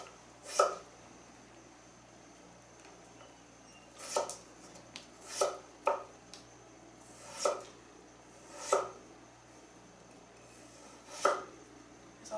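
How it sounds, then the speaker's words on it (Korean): A knife slices peeled potatoes into thin strips on a board, with nine or so sharp, well-spaced chops against a quiet background. "그래서 감자를 먼저 채 썰어서 찬물에 담가 볼게요"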